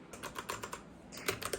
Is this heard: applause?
no